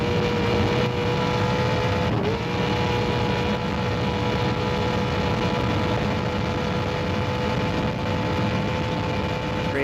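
An off-road race vehicle in the SCORE Baja 500 tears along at about 117 mph, its engine and rushing wind forming one loud, continuous roar that holds steady throughout.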